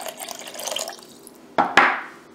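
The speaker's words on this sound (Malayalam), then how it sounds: "കുറച്ചുകൂടി വെള്ളം ഒഴിക്കും" Water poured into rice batter in a bowl while making Kannur-style panchara neyyappam from leftover rice, with a soft ongoing pour that ends in two sharp splashy bursts near the end, close up and with no talking.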